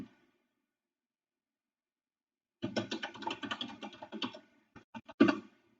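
Fast typing on a computer keyboard during a Linux login session, starting after a silent pause with a steady run of close, clicky keystrokes and a few separate final taps, one louder.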